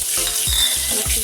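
Red chili powder hisses in hot oil with cumin and asafoetida, a dense continuous sizzle up close with a few soft, rhythmic stirring bumps beneath it.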